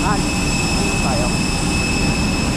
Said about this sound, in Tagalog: dito na tayo sasakay sa ano, sa aeroplano na to